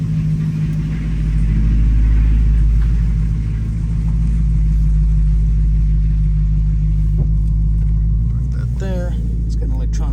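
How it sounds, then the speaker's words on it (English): A 2011 Jaguar XKR with a supercharged 5.0L engine pulls forward out of a garage, giving a steady, close, low rumble that swells slightly partway through, with a voice talking over it near the end. "And I'll drive forward out of the garage,"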